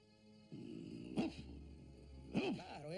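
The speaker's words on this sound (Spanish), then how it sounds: "Sparky se puso de pie y ladró fuertemente." Two short, sharp dog barks rise over a low background of hum and noise, spaced about a second apart, moderately near and fairly loud against the quiet scene.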